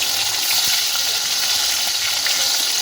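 Hilsa fish pieces fry lightly in hot oil, making a continuous loud crackling sizzle that stays close and steady for the whole few seconds, with no one talking over it.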